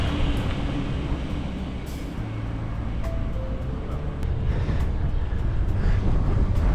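Strong headwind buffeting a cyclist on a ride past cherry blossoms, a constant loud rushing roar of wind noise that swells slightly toward the end, with faint tonal whines underneath.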